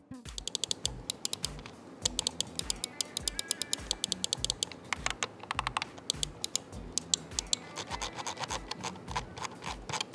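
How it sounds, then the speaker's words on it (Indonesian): Rapid, crisp clicks from a Fantech Raigor III WG12R wireless gaming mouse in uneven bursts, close and clear, with short pauses between runs of clicking. "berikut ini deh kita kasih contoh suara feedback dari mouse-nya"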